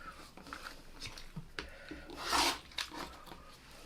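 Quick trim of a quilt fabric piece, with a few faint rasping snips and rubbing sounds close by and a slightly louder cutting swish partway through.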